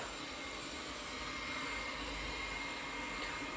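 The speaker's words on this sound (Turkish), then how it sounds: "Robot süpürgeyi çalıştırdım içeriye." A robot vacuum cleaner runs indoors in a home, giving a steady, close whirring hum with no pauses.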